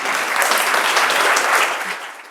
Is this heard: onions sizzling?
no